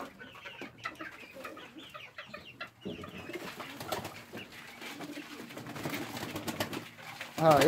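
Pigeons coo and flutter amid Serama chickens clucking close by, a busy mix of bird calls with a louder burst at the end.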